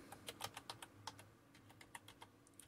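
Keys clicking as a password is typed on a laptop keyboard during a Debian 12 Linux installation, a quick irregular run of close, light taps alone.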